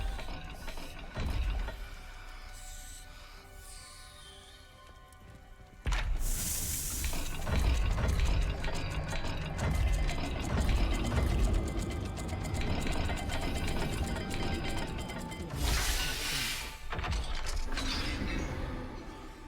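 In the Hogwarts Legacy video game, a magical dial puzzle turns with creaking, ratcheting clicks and grinding mechanical gears. Several louder surges swell over a layered, music-like hum, with no talk.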